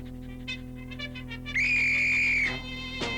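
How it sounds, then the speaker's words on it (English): A single long, loud whistle blast signals the start of a town band parade. It holds steady for about a second, with a few short chirps just before it and a brief sharp burst afterward. "The whistle blew,"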